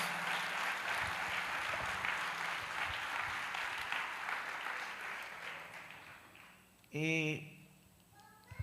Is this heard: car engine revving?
no